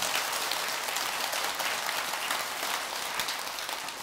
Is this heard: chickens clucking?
no